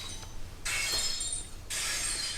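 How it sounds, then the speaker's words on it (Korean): Glass shatters in two loud, bright bursts separated by a short pause, a smashing-window sound used in a real-time sound recognition demo. "유리 깨지는 소리가 났을 때"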